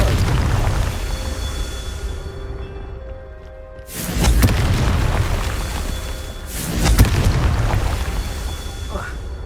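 Two heavy booming blasts of the Confringo spell in Hogwarts Legacy, one near four seconds and another near six and a half, each loud and rumbling before decaying over a bed of game ambience.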